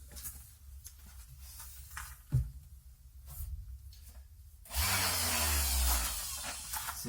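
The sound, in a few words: sander sanding wood corners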